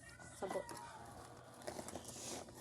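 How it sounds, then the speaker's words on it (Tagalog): Faint chicken clucks from a video game, two short bursts over a steady background hum, with a voice talking quietly at times. "Ayan, manok."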